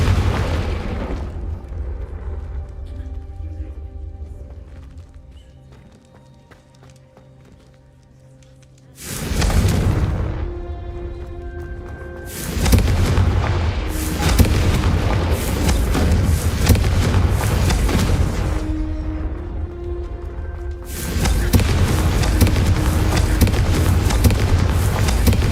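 A Confringo explosion spell goes off in the Hogwarts Legacy video game, giving deep booming blasts that hit three separate times and leave long rumbling tails under the game's ambient sound.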